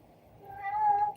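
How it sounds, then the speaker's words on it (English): A Siamese cat gives a single drawn-out meow in the background, rising in loudness over about a second, with no talk over it. "Those are Siamese, by the way, that you hear in the background."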